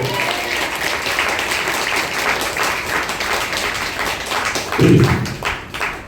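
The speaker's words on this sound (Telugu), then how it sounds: "కొట్టు చప్పట్లు గట్టి" A church congregation claps loudly and steadily together, dense rapid applause with a few heavier thumps near the end, voices faintly mixed in.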